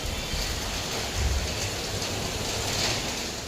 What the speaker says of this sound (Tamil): ரொம்ப நாள் கழித்து மழை வந்திருக்கு